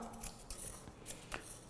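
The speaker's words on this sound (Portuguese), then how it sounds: "Com a tesoura agora de lado aqui, ó." Scissors trimming the fur on a Schnauzer's paw, held sideways to round it off: several quick, faint snips in close succession, close by and with no talking.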